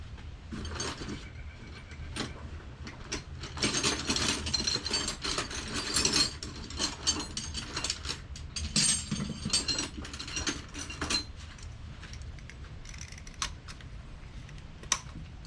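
A hand ratchet clicks rapidly as it turns a spark plug socket on an extension in a 2016–2019 Chevy Cruze 1.4L turbo engine, close and crisp in uneven bursts of pawl ticks.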